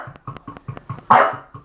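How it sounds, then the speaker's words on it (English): An overly excited dog barks in quick succession, about eight sharp barks in under two seconds, the last one louder and more drawn out. The dog is fairly close and no one speaks. "Sorry for the dog in the back"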